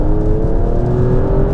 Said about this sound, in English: oh, that engine sounds awesome in race mode